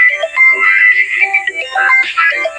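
A phone's melodic ringtone plays loud and close for a few seconds, a bright repeating electronic tune signalling an incoming call, with no talking over it.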